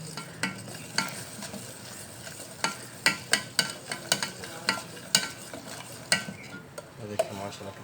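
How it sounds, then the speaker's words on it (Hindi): A chocolate mixture cooks on a low flame with a soft steady sizzle, while a spoon stirs it with repeated light taps and scrapes against the pot, close and without talk. "इसको हल्की आंच पे हम पकाएंगे थोड़ी देर"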